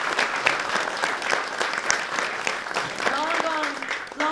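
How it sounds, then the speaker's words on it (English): Applause from a press conference audience at a gaming convention, a steady dense patter of clapping lasting several seconds with some voices mixed in. "the whole team deserves an applause for that"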